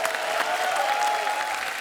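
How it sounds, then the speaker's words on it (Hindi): A studio audience on a Hindi comedy show, Kapil Sharma's programme, breaks into brisk, dense applause for the guests, a steady wash of clapping from many hands with no voice standing out. "एक बार जोरदार तालियां हमारे मेहमानों के लिए।"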